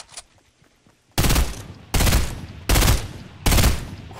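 Burst-fire assault rifle in Fortnite Battle Royale, four loud, punchy bursts spaced about a second apart after a quiet stretch of faint background game noise.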